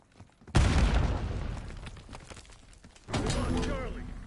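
A hand cannon firing in Call of Duty: Black Ops 6 Warzone Resurgence: a heavy boom that rumbles away, then a second blast about two and a half seconds later, with game voice lines throughout.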